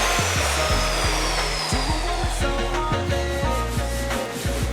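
Steady rasping strokes of a sanding block worked over a car door panel on a 1965 Mustang in a fabrication shop, continuous and close with a rhythmic back-and-forth scrape and low hum, no speech.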